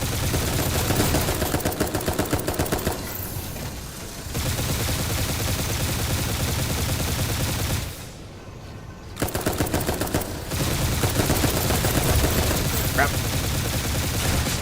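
Rapid cannon and sniper gunfire in the Dolls Nest video game, loud sustained bursts of shots with two brief pauses, as a player talks quietly beneath them.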